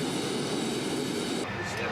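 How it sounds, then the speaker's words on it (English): An aircraft engine roars steadily as it revs up to speed during a carburetor adjustment, a loud continuous drone with a slight shift near the end. "Give it a little more gas to help the engine come up to speed quicker."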